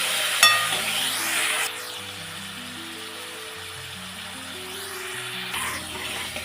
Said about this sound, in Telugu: ఇప్పుడు మనం కట్ చేసి పెట్టుకున్న టమాటాలు వేసి బాగా కలపాలి.